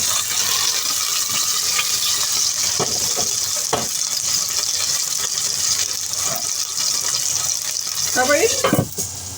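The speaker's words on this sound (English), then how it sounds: "I put some ginger around while I'm frying the pork chop" Pork chop frying in a pan with ginger over lowered heat, a steady broadband sizzle running throughout with a few stirring clatters and brief utensil knocks near the end.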